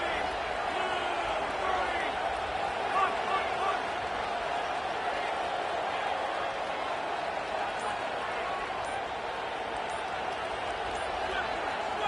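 A college football stadium crowd roaring steadily throughout a fourth-down play, a dense, continuous wash of noise under a commentator's voice.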